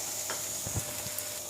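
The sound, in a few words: potatoes being stirred and fried in pan for aloo bhaja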